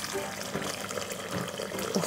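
Bone broth poured out of a pot, a steady close splashing trickle of liquid lasting a couple of seconds, with a voice murmuring faintly underneath.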